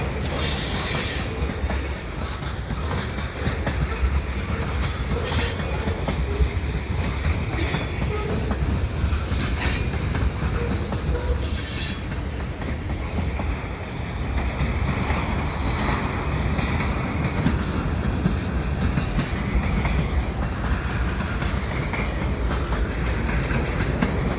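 A loud CN mixed freight train rumbles past close by for a long stretch, with rattling wagons, clattering wheels and occasional squealing.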